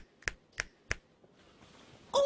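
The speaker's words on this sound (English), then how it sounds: "click your fingers." Three crisp finger clicks, evenly spaced and close, followed by a faint shuffle and a brief louder sound at the end, with no voices.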